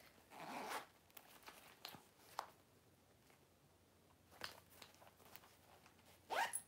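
Short zipper pulls on a leather purse's back pocket rasp at the start and again at the end, with a few soft handling clicks and rustles in a quiet room between them.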